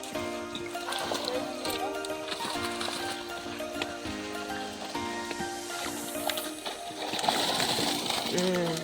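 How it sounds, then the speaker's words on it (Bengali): Many fish jump and splash in a net as a pond is harvested; the scattered wet slaps and splatters run throughout beneath voices, with a louder burst of splashing near the end. "দেখতে পাচ্ছেন আপনারা কত মাছ লাফাচ্ছে"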